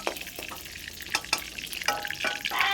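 Dried red chilies fry in a pan alongside whole cloves, cinnamon and cardamom, giving a sizzle broken by repeated scraping strokes and clinks of a stirring spoon.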